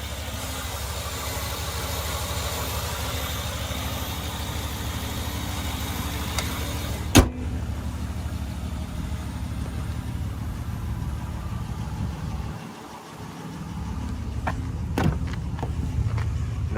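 The 5.7-liter V8 e-torque engine of a 2022 Wagoneer Series II idles with a steady low rumble. A sharp click interrupts it partway through, and the hum briefly dips before settling again.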